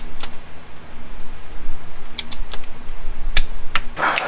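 A 3/8-inch torque wrench is adjusted to 22 foot-pounds during transfer case work on a Jeep Rubicon 392, making several sharp, close clicks spaced irregularly over a steady background hum.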